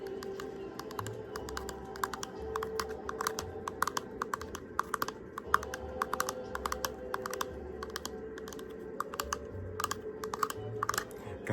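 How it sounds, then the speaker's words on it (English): A turtle shell being tapped and handled up close, producing rapid light clicking taps in irregular clusters over a low steady background hum. "Do you guys want a little bit of turtle shell ASMR?"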